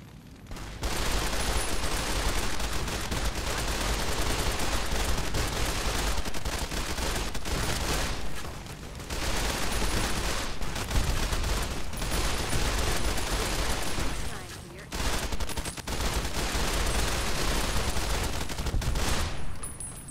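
Dense, sustained gunfire from the video game Fallout: New Vegas during a Hoover Dam battle, loud rapid bursts of automatic fire merging into a near-continuous roar, broken by a few short pauses, with no voices.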